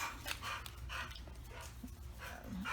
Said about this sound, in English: So Paco is panting a bit because,